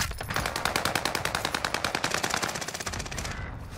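Rapid automatic gunfire from a flaming weapon in a first-person shooter video game, a fast steady burst of loud repeated shots running about three seconds before cutting off.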